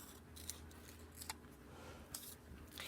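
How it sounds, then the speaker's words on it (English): Scissors snip through paper while a paper spider is cut out for fine motor practice, giving a few sharp, quiet cuts spaced irregularly against a faint, steady background hum. "Turning my paper, not turning my scissors, doing my best to cut it out."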